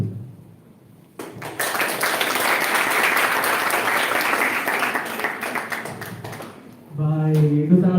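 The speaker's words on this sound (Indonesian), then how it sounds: "Beri tepuk tangan." An audience at a literary criticism forum breaks into applause, a sustained round of clapping that swells and then fades before a voice resumes speaking.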